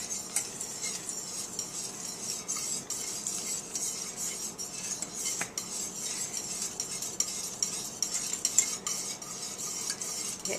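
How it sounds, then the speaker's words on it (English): Cornstarch being stirred vigorously into a pot, a steady scraping and swishing with faint clinks of utensil against cookware, close and continuous with no talk. "you want to slowly and vigorously stir when you're adding the cornstarch"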